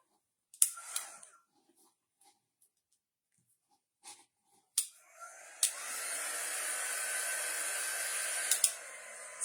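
A few scattered taps and rustles on a chalk paste craft project, then a hair dryer switches on and blows steadily at close range, a continuous whooshing hum that lasts several seconds.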